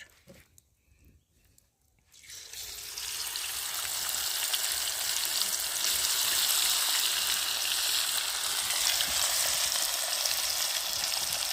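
A batch of red fish drops into hot oil in a pan and erupts into loud, steady, close sizzling frying that continues unbroken after a brief quiet start.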